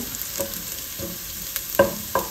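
Garlic sautés in a hot pan, a steady sizzle broken by several distinct scrapes of a spatula as it is stirred constantly, close and fairly loud with no talking.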